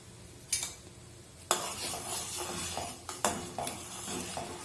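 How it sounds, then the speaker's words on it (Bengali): Milk tea of water and milk with ginger and masala, boiling in a pot and stirred with a spoon: a few quiet, separate scrapes and clinks over a faint simmer, close and with no talking. "একটু নাড়িয়ে দিচ্ছি"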